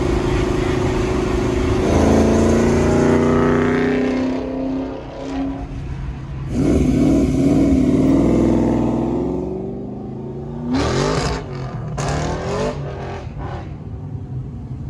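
Ford Foxbody Mustang V8 engine revving loudly on the road, with sustained drones rising and falling and several sharp throttle blips near the end, close and dominant throughout.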